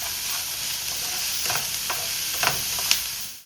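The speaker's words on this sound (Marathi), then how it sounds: "कांदा लाल होईपर्यंत मस्त भाजून घ्यायचा आहे हाय फ्लेमवरती" Onions fry in a pan over a high flame, giving a constant loud sizzle broken by a few sharp scrapes and taps of stirring, with no voices.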